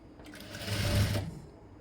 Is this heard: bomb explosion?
no